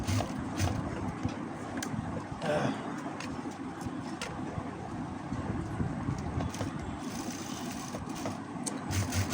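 A sewing machine stitches a thin lace trim onto a salwar with white upper thread, running as a steady, continuous mechanical whir and rattle close up, no voices alongside.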